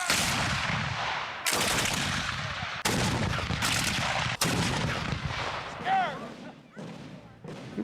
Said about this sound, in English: in the evening, there's the demonstration of the